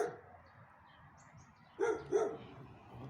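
A dog gives two short barks in quick succession at moderate distance, set against a quiet outdoor background.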